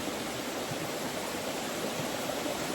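Waterfall with steady rushing water, a dense, even roar that fills the whole clip without pauses or voices.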